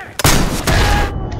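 In the Day of Infamy wartime shooter game, two loud, close rocket blasts boom in quick succession, each a sharp crack that rolls into a heavy rumble before fading into a brief tail.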